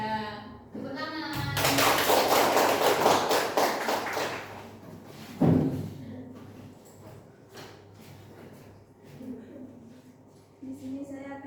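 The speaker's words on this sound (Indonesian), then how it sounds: "Ya, tepuk tangan." Classroom applause breaks out and builds into dense, lively clapping from many hands for a few seconds. Scattered taps and a voice talking follow it.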